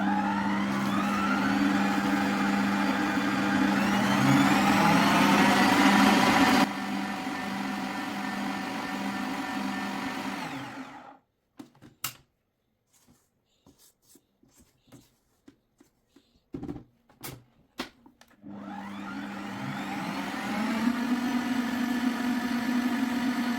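An electric mixer churns a stiff gelatin fondant mixture with a steady loud whir that stops abruptly, leaving a few scattered knocks and scrapes, then starts running again.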